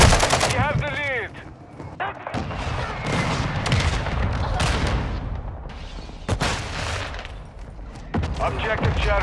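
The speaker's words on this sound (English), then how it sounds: "Hostile mortar strike in the area." Heavy gunfire and mortar blasts in a Call of Duty: Modern Warfare II multiplayer match: loud, dense rattling bursts and booming impacts run throughout, with game voices and announcements mixed in.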